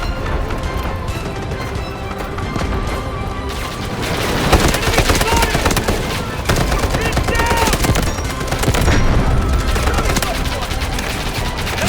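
An AKS rifle fires in the Delta Force video game, rapid bursts of automatic gunfire rattling close and loud through the clip, thickening into sustained fire in the second half, with other gunshots mixed in.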